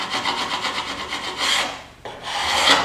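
A sharp chisel scrapes hardened glue off glued-up narrow wooden boards in quick, rasping strokes, loud and close, with a brief break before a final longer shave.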